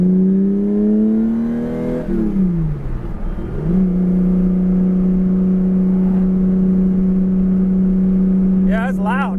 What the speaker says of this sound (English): Something's up with this exhaust.